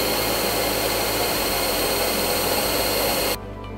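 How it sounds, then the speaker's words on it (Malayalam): An electric beater whirs loudly and steadily as it beats eggs for macaroni pola, a continuous motor drone that cuts off abruptly near the end, leaving a quiet room hum. "അപ്പോൾ ഞാൻ ജസ്റ്റ് ഒന്ന് ബീറ്റ് ചെയ്തിട്ട് വരാം."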